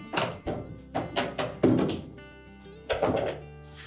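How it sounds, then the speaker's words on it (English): Plastic kickplate grille on a Frigidaire refrigerator being popped loose with a stiff putty knife, giving a series of close, hollow thunks and taps in uneven rhythm, several quick knocks followed by a pause and a final thud, with no speech. "get a stiff putty knife into the center of it and pop that part out first"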